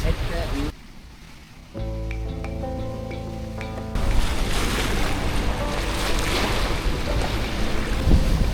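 Sea waves washing against the shore at El Max, a fishing area, in a loud, steady rush with wind noise, broken by a short quieter stretch that carries a faint tonal sound.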